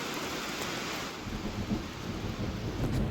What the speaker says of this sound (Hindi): बारिश पड़ने लगी है